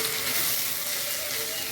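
Ivy gourd pieces fry in hot oil with chilli and turmeric powder, producing a loud, steady, close sizzle that crackles evenly throughout without pause.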